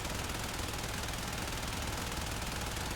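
A Soma Prime rifle in Warframe empties its magazine as dense, unbroken rapid fire, loud and steady with no gaps for the whole stretch.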